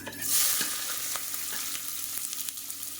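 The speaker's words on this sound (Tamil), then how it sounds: "இப்போ வெங்காயம் வதக்கட்டும்" Onions sauté in oil with cumin, fennel and curry leaves, a close, even crackling sizzle with faint stirring clicks throughout, no voices.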